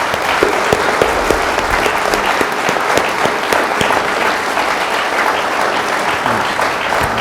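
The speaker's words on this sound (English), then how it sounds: "Let's give Reverend Wright a round of applause" Steady applause from a church event audience fills the whole stretch at close range, with a few sharper individual claps standing out above the dense wash of hands.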